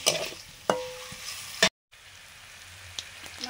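Shrimp coated in salt and turmeric frying with black cumin in a pan, giving a soft, close sizzle broken by sharp stirring clacks and a brief silent gap.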